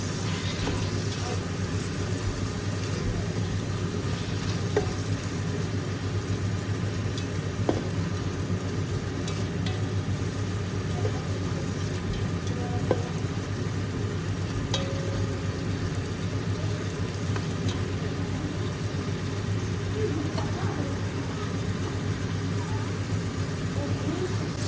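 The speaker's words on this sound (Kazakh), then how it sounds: "пиязбен бірге қуырып аламыз." Potatoes and onions fry together in a pan, giving a long, even sizzle with a low hum beneath and a few soft scattered clicks of stirring.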